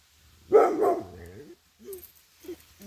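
A dog barks a couple of loud, close woofs, then follows with a few softer yips and whines spaced apart in an otherwise quiet outdoor morning.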